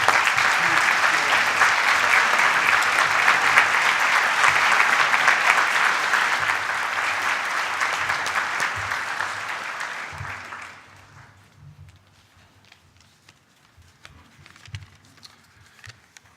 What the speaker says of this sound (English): give a warm hand of applause to our wonderful band here